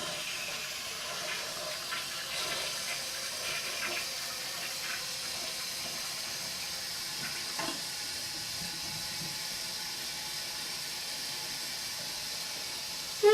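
A toilet flushing after its flapper was replaced, a soft rushing and gurgling of water that runs steadily and fairly faintly, then ends with a brief louder knock.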